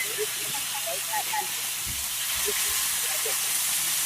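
Continuous bright hissing and crackling of food sizzling in a hot pan, close and steady, with faint voice fragments and clatter beneath.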